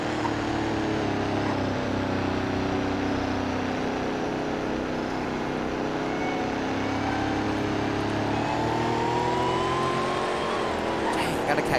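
Jeep engine droning and accelerating in the Roblox game Greenville, Wisconsin, a continuous loud engine tone with slowly rising pitch throughout, while a person talks over it.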